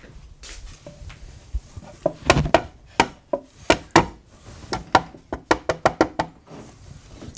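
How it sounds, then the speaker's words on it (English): Sharp wooden knocks from a wooden divider being tapped into a wooden hedgehog house box, a dozen or so close, loud taps in irregular clusters, some quick doubles, with quiet pauses between. "I tend to knock these a little, just a little tap,"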